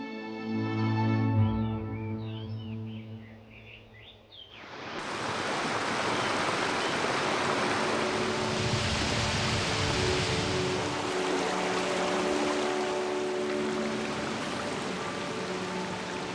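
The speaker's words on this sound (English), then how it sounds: "Countless cascades and streams flow down the Minshan Mountains." Mountain streams and cascades in the Minshan Mountains rush in a steady, loud broadband roar that takes over after a few seconds of music and continues to the end.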